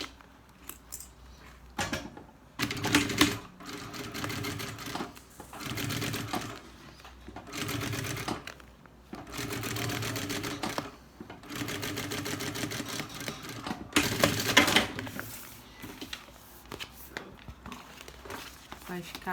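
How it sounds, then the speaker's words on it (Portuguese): Sewing machine stitching fabric for a beach bag, running in repeated bursts of a few seconds each with short pauses between, fairly close and moderately loud, with someone speaking at times between runs. "e termina de costurar"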